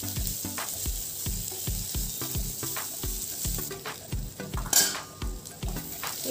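Roughly chopped onions fry in oil in a pan, a constant sizzle under rhythmic, close scrapes and clinks of a spoon stirring against the pot, with one brief louder clatter.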